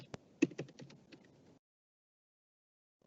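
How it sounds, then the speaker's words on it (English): Typing on a computer keyboard during an online IoT and cloud security session, with a short burst of uneven close keystrokes and taps followed by silence. "So I'm typing my email ID here."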